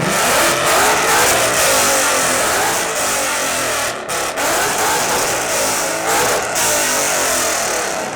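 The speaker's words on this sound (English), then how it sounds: "Nice mild-mannered looking S550 GT. Let's hear it." A loud, raspy V8 engine of a Ford Mustang S550 GT revs repeatedly with brief dips between pulls, mixed with dense, roaring noise close by, at a Mustang car show.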